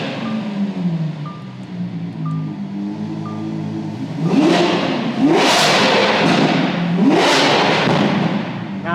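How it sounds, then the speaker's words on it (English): A V12 supercar sits idling and then blips its throttle in several sharp, loud revs that rise and fall back, with no talking. "Beautiful V12, amazing sound."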